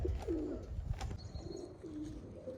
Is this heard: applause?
no